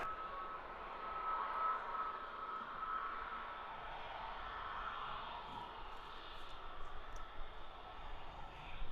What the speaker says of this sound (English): Nice little VistaJet Global 6000 making its way toward us